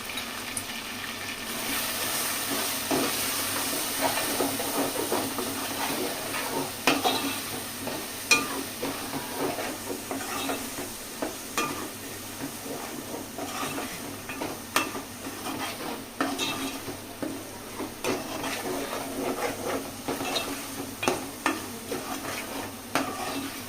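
Chili powder frying in oil for a prawn curry, stirred continuously, giving a constant bright sizzle broken by frequent scraping and clicking of a spoon against the pan, close and fairly loud, with no voices.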